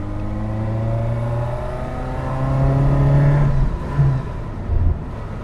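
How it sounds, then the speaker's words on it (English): A 1979 Fiat 127 Sport engine revs and drones loudly with an intake roar and exhaust note, pitch rising and dipping through a gear change, close by. "it's that induction noise you can hear, the exhaust as well"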